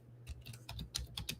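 Quick typing on a computer keyboard, close up, with a rapid irregular run of crisp key clicks and a few heavier taps, heard alone without talk.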